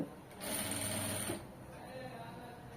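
A sewing machine runs in one short close burst while stitching folded piping onto a star-shaped neckline, a fast whirring hum that stops after about a second, followed by quiet room tone.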